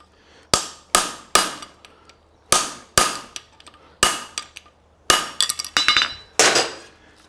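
A hammer strikes a bullet stamp into a forged horseshoe for a hind preventer, about a dozen sharp metallic blows in uneven succession, some with quick ringing double hits, loud and close with no talk.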